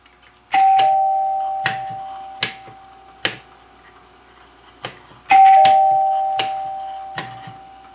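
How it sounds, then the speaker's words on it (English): A NuTone eight-note Westminster door chime rings alongside a wired second two-note chime, giving loud metallic tones with sharp plunger strikes, the sequence twice with ringing decays. "the chime rang its eight-note Westminster sequence, and it also activated the two-note chime two times"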